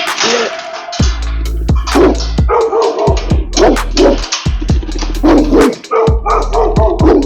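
Several Cane Corso dogs barking at a Texas kennel, loud, deep, repeated barks from close by, overlapping in an irregular run of bursts.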